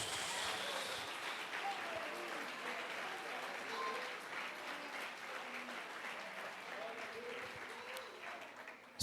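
A church congregation applauds continuously at a worship service, dense steady clapping with crowd murmur that tapers slightly at the end.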